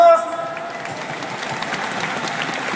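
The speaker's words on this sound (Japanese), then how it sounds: "コスプレイモードの皆さんに大きな拍手をお願いします" Audience applause for cosplay performers at a Cosplay Summit stage show, a dense sustained clapping crowd with light cheering, steady throughout.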